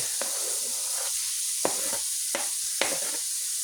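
Peppers and onions sizzle steadily in oil in a pan for a green bean dish, a continuous hiss broken by a few sharp scraping stirs.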